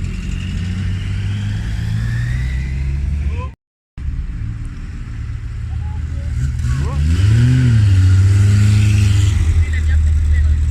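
A Corvette C4 driving at a vintage car event, its engine a steady low rumble that swells as it revs up partway through, loud and close under passenger chatter.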